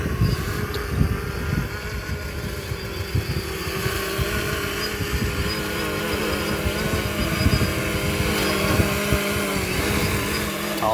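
A 3DR Solo quadcopter drone flying outdoors in acro mode on a windy day, its propellers giving a steady buzzing whine that holds for the whole stretch, with shifting tones and wind rumble underneath.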